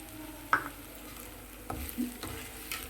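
Chili powder fries with ginger garlic paste in a pan for a chicken dish, a soft low sizzle under a few distinct scraping knocks of a spoon stirring against the pan.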